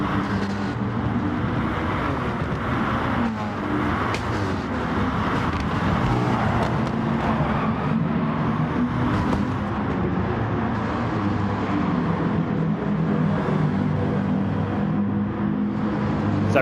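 Race cars in a racing video game at Autopolis, a steady dense engine drone with shifting pitch running the whole way, loud and close, as several cars battle tightly into curves with no talk.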